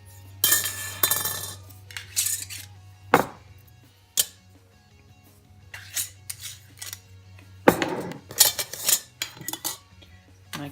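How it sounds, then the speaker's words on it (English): Metal rings unscrewed and lifted off home-canned jars of meatloaf and mushrooms, a series of sharp close metallic clinks and scrapes in uneven bursts with quiet gaps between. "I'm taking the rings off of those"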